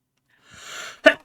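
A single close, sharp human sneeze, preceded by a short rising intake of breath, in a quiet room.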